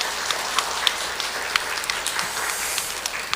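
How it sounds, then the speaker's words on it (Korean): A church congregation claps for its worship team during a Sunday service, a steady soft wash of many hands applauding from across the room, with a few sharper claps standing out. "우리 찬양단들 위해서 여러분들 격려와 축복의 박수해 주시기 바랍니다"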